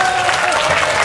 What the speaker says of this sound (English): Let's give the STP party a clap.